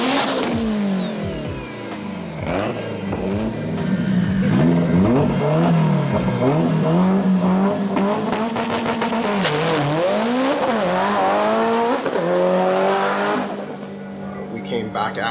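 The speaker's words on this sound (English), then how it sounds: "Our first pass on the 17-inch slicks ran 130, 160 foot, but the car got loose and out of shape, and Junior" Subaru STI drag car on 17-inch slicks at a drag strip, its engine loud and close as it launches, revving hard and climbing through rising gear pulls with brief tire chirps, then dropping away near the end.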